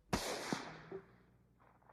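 Rifle fire: a sharp, loud crack followed by two quicker shots and a fading echoing tail, heard alone over a short span.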